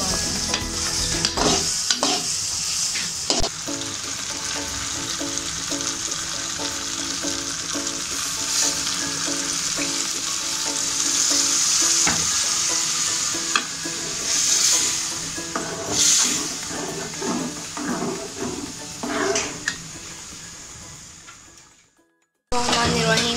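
Cubed potatoes for aloo keema fry and sizzle steadily in a pan while a spoon stirs and scrapes them, a continuous close crackling hiss with clinks of utensil against metal, ending abruptly in silence.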